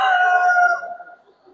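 An Italian-breed rooster at a poultry show crows once, loud and close. The crow is a strong, drawn-out call that fades over about a second.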